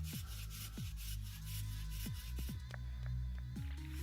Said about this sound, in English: And now I can start sanding slowly.